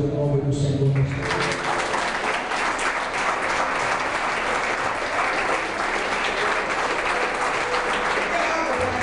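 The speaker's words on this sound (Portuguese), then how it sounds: "Alguém pode aplaudir o nome do Senhor?" A church congregation bursts into sustained applause at an evangelistic service, dense clapping holding steady after a brief spoken opening.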